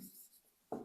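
Short bursts of chalk or marker writing on a board during an electricity lesson, a brief scratch at the start and a louder stroke near the end, faint and close with quiet gaps between.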